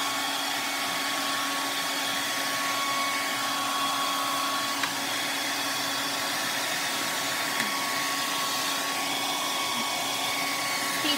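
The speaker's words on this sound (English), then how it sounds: "I'm just gonna hit it here with the hair dryer." A hair dryer blows steadily and close by, drying a watercolor painting, a continuous broadband whoosh with a faint motor whine, no talking throughout.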